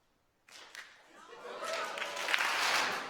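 An audience claps on a rhythm cue at a jazz and neuroscience talk, starting after a brief silence as scattered claps that build into broad, sustained applause from a sizable crowd.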